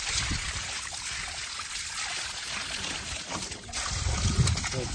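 Water is thrown by hand over a Maruti Brezza stuck in a farm field, a steady splashing trickle running close by throughout, with a heavier gush of splashes near the end.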